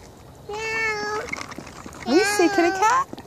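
A cat meows twice outdoors in a yard, close and clear: one long drawn-out meow followed after a pause by a rising, wavering meow.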